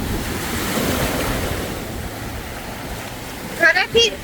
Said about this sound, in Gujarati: બહુ સરસ બીચ છે.